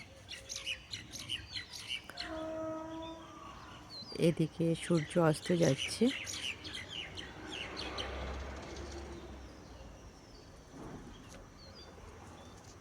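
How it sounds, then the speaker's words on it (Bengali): Many birds chirp and tweet around a rooftop garden at sunset, mixed with a burst of rhythmic pigeon-like cooing, while a person talks over the busy, fairly close calls. "আমার কথার মাঝে প্রচুর পাখির কলরব শোনা যাচ্ছে"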